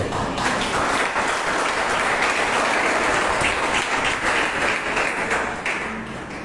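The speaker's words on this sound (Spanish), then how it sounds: "Gracias por su aplauso" Audience at a Bible study lecture applauds in sustained, dense clapping that holds strong and eases slightly toward the end.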